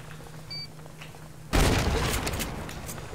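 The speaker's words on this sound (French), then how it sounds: "Il est pas mort après deux coups de shotgun." A loud shotgun blast bursts out midway in the video game Subsistence after a quiet stretch, then a dense rumbling, crackling tail fades slowly.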